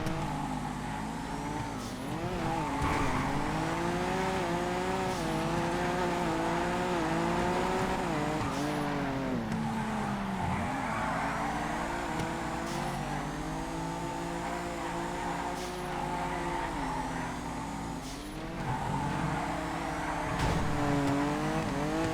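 A Massacro sports car drifting in GTA FiveM, its engine revving and wavering continuously while tires squeal through repeated slides, loud and close with no talk over it.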